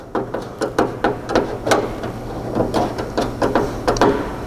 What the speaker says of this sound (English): It's easiest if you just hold a lip on the bug shield to give a little tension as you screw these screws